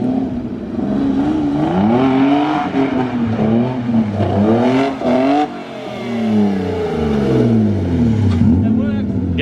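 A BMW E36 ute's engine revving hard and loud, with repeated rising and falling surges close by and people talking over it.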